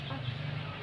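Domestic chickens cluck in a low, continuous murmur, close by and fairly quiet, with no clear separate calls standing out.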